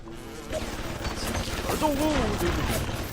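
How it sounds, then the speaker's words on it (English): Gunshots in BioShock, a few sharp reports and crashes within busy game sound, with a voice speaking over part of it. "Shots fired."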